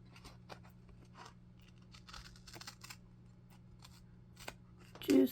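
Scissors snip through 6x6 and 8x8 craft paper while trimming a paper pocket, a few faint, soft cuts under quiet room noise, ending in a louder, sharper snip.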